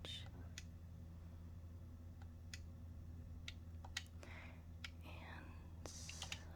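Soft clicks of game controller buttons while Fallout 4 is played, scattered sharp ticks at irregular intervals, faint under a steady background hum and quiet game sound.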